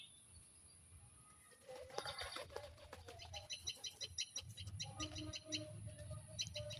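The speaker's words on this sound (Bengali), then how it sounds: "কবুতরের ডাকগুলি ফিল করেন।" Pet pigeons cooing and fluttering close by, soft repeated calls with a few wing flaps building up after a quiet start, over a faint background hum.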